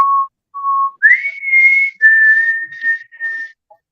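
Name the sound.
person imitating a beckoning whistle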